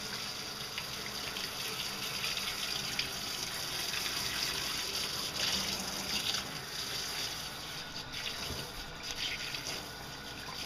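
Shower head spraying water steadily into a dog's coat during a bath, a continuous close hiss of running water with no talk.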